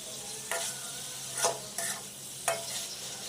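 Beef liver with whole garlic cloves frying in a pan under a steady sizzle, with four distinct stirring scrapes punctuating the hiss at roughly regular intervals.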